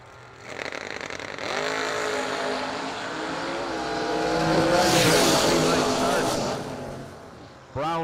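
A 1968 Camaro roars down a drag strip at a Christmas bash, its engine note climbing through the gears in a loud, sustained run that swells near the middle and fades, with an announcer talking over it.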